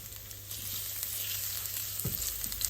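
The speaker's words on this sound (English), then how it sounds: "In goes the oil. We're going to add 1 teaspoon of garlic." A teaspoon of garlic frying in hot oil in a pan, a steady close sizzle running throughout with a soft stirring knock partway through.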